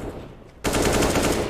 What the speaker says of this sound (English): get that instant AK shot